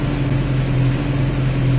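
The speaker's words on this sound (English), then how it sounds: "I'm just seeing how long this engine is going to hang on." A deep, continuous diesel roar comes from a Landini C6-130C tractor straining to pull a 19-ton load uphill, loud and near throughout with an unbroken low hum.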